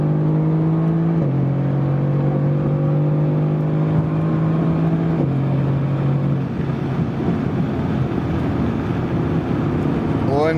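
A 2018 Mercedes-AMG GT R in manual mode revs hard, the close engine note climbing and dropping twice in pitch as it shifts, then settling into a rougher roar.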